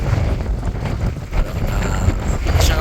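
Strong wind in Basco, Batanes, out among open rolling hills, buffets the microphone as a loud, continuous low rumble with gusty surges.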